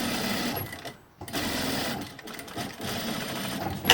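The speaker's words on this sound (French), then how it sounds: "Donc Ida, on fait un ourlet que sur un seul côté" A sewing machine stitches a one-sided hem on a homemade fabric face mask, running in a steady continuous whir with two brief pauses where the stitching stops and restarts, fairly close and alone.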